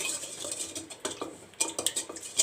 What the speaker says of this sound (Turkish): Mayanın aktive olması için güzel bir karıştırıyorum